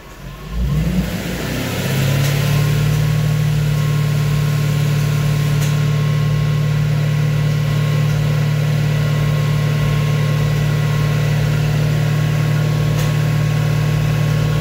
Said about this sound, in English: So I'm going to bring this idle up.